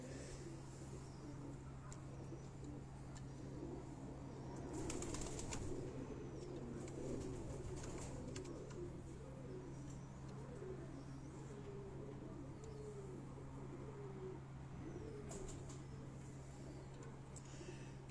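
Pigeons coo softly on a rooftop loft on Chakbeli Road, Rawat, near Islamabad, low murmuring calls repeating under a steady hum, with faint wing flutters and distant background noise throughout.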